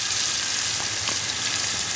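Chicken marinated in Kashmiri chilli, yogurt and salt for tandoori chicken fries with a steady, crackling sizzle, close and fairly loud, with no talking.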